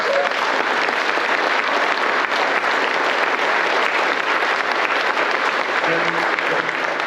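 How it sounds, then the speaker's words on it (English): Dense, sustained applause from an audience at a public event in Chillicothe about a glove company, a full, even roar of many hands clapping without a break for several seconds. "I think that deserves a huge round of applause"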